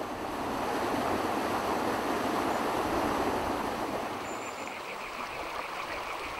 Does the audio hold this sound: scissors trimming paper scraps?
no